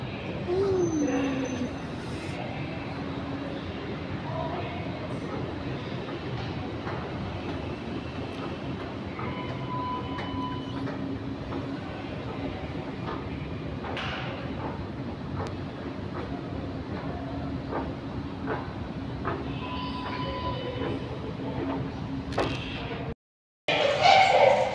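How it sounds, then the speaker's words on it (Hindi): A train ride from GPO station carries a continuous low rumble of rolling wheels and carriage noise, steady and close, with occasional clanks, a faint distant voice and a brief cutout near the end. "जीपीओ स्टेशन से बैठ गए और ट्रेन पे"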